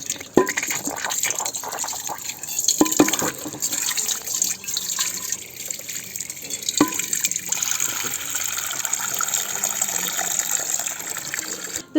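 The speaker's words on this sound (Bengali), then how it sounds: "আমি দেখো টাইম কলের জল ভরে নিয়েছিলাম" Tap water gushes and splashes into containers in a home kitchen, a steady running flow with a few sharp knocks and clinks over about twelve seconds.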